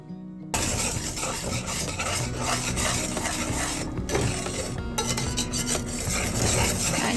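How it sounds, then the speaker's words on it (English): A chocolate mixture melting in a pot is stirred continuously, with a spoon rasping and scraping steadily against the pan bottom. The sound is close and fairly loud, with occasional clinks, and no one speaks. "So you're just going to stir this and everything's going to melt"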